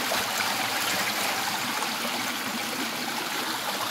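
Water gurgles and flows in a continuous, close stream with a bright splashing hiss, steady throughout and with no talking.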